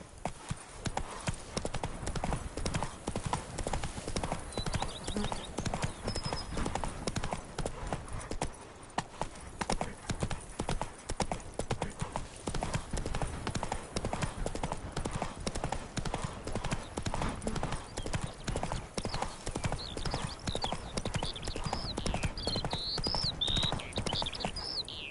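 A horse gallops in The Witcher 3, quick rhythmic hoof clip-clops running continuously and fairly close over a busy game soundscape, with a faint short voice once.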